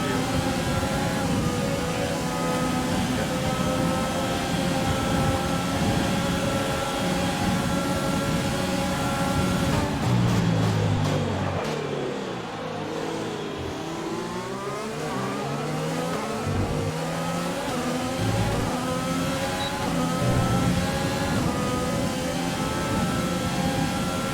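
Formula 1 race cars at the Bahrain Grand Prix: a loud, steady high-pitched engine scream with rising and falling revs, and a car sweeping past close by midway through.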